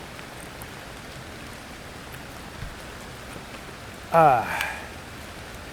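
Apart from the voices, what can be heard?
rain falling on a hammock camp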